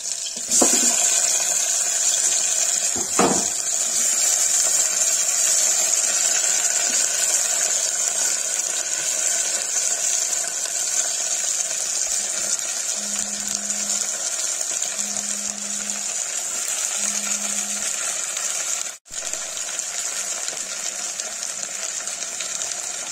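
Green beans and potatoes fry in a pan for a Kashmiri-style vegetable dish, giving a steady, close, hissing sizzle that runs unbroken, with a few faint low tones and a brief dip near the end.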